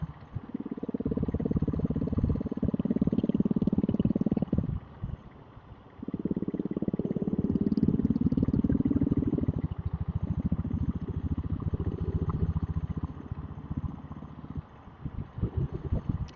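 Diesel Royal Enfield Bullet motorcycle ridden near Pallavaram between West Tambaram and Guindy, a close, low chugging engine thrum that pulls in surges, drops away briefly and picks up again amid road noise, with no talking.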